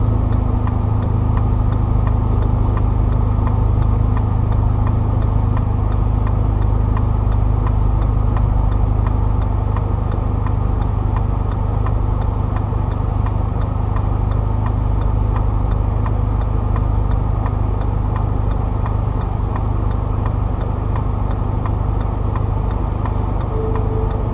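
A manual-transmission car idles in neutral after being restarted from a stall at a left turn, a loud, steady low engine drone running unchanged the whole time with no one speaking.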